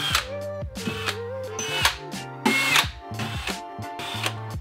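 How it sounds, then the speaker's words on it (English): A power drill bores a hole through a wooden cabinet during a basement bar install, its motor whining in repeated bursts that rise and fall as the bit cuts, close and fairly loud with no talk. "I went ahead and drilled a hole in the cabinet so I could pop it through."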